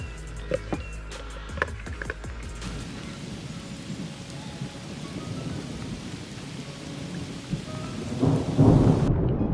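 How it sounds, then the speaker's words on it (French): A fierce thunderstorm with heavy rain outdoors at a river while catfish fishing: a rumbling thunder roll fades into a steady wash of rain that swells louder near the end. "Un orage de dingue avec la terre"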